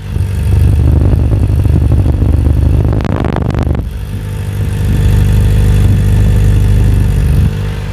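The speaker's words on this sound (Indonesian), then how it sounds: "minimal suara dari Kawasaki Ninja ZX4R ini." A Kawasaki Ninja ZX4R motorcycle idles, heard close up near its exhaust. The low, steady rumble runs throughout, with a brief clattering flutter near the middle before it settles back into the even idle.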